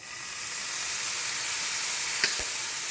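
Vegetable sauce with Worcestershire sauce simmers in a pan for stuffed peppers, giving a steady broad hiss and sizzle that builds slightly at first, with one faint clink near the end and no voices.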